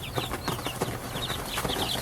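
Two-month-old bantam chicks cluck and peep in quick, repeated bursts while feeding nearby, a busy chorus of chirps over light scratching.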